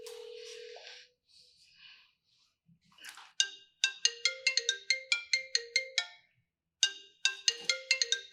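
A telephone ringtone rings in repeated bright, rhythmic electronic tone bursts, near and fairly loud. Quieter tones and brief noises come before it, and there is a short gap midway.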